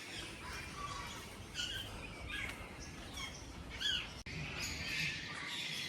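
Birds in a large aviary at the Delhi Zoo give faint, scattered squawks and chirps at a distance over a steady hiss of outdoor background noise.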